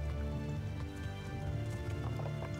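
Horse hooves clip-clop in Kingdom Come: Deliverance, a steady rhythmic trot close by beneath a dense layer of game ambience and music, with no talk over it.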